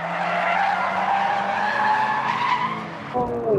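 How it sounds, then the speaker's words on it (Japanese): Toyota GR86 drifting at Tsukuba circuit, its tires screeching in a long continuous skid over a steady engine drone that shifts in pitch near the end. "佐々木選手はドリフトコントロール性をチェッ"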